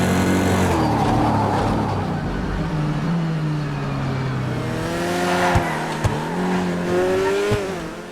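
A Karin 190z sports car in GTA Online drives hard around Laguna Seca, its engine droning steadily and climbing in pitch through gear changes, with a few sharp clicks and shifts near the end; no talking.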